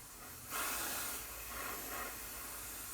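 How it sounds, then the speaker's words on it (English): A paint sprayer loaded with 2780 high gloss enamel lets out a close, steady airy hiss that rises sharply after a quiet start, then eases into a softer continuous spray with a brief second surge. "I've got the 2780 high gloss enamel loaded up in the sprayer"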